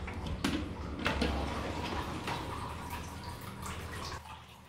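Running water plays in a Japanese restaurant toilet, a faint, steady trickle with a few light ticks and drips, heard alone with no talking.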